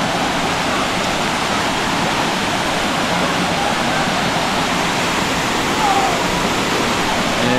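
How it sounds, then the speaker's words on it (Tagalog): Cambugahay Falls pouring into its pool, a dense, steady roar of rushing water filling the whole clip, loud and close with no pauses. "Tambugahay Falls."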